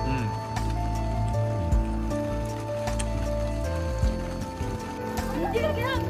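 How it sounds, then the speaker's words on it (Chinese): Rain falls outdoors on a Xinjiang pasture where herders keep horses, a steady patter running throughout, with voices and other sounds over it. "我们刚刚在下雨"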